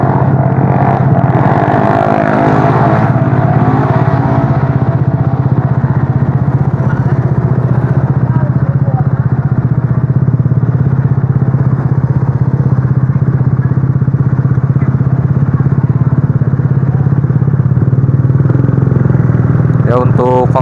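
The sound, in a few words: motorcycle engine with cheap aftermarket exhaust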